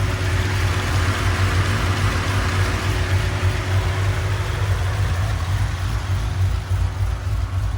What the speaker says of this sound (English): It is starting to develop kind of a rattle